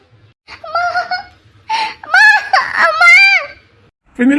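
A person crying in distress, close and loud, with wailing, whimpering sobs in several bursts separated by short pauses.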